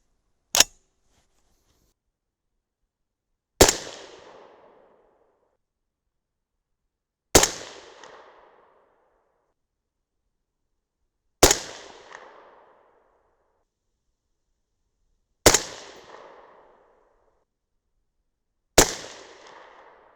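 A 6.5 Grendel rifle fires 140gr Hornady Match BTHP handloads with a 26.8-grain charge: six sharp, loud shots spaced a few seconds apart, each cracking then fading in a short ringing echo, with silence between.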